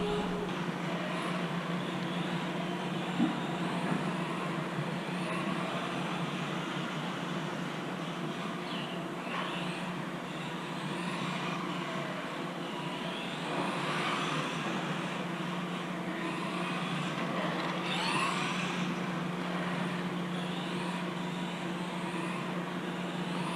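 A Tamiya TT-02SW RC touring car runs steadily with a continuous whining drone over a long stretch, holding a fairly even level throughout.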